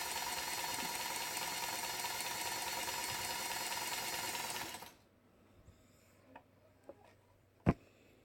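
Dressmaker SWM-1000 sewing machine stitching: a fast, steady mechanical whir that runs for about five seconds and then stops, followed by a few faint clicks and one sharp knock.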